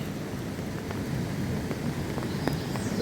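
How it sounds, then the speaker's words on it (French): Rain falls steadily at an outdoor site of moss, roots and stones at Le Saut du Brame near Lussac-les-Châteaux, a constant soft hiss of drops with a few sharper patters, no voices. "la pluie."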